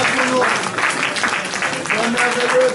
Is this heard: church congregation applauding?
yes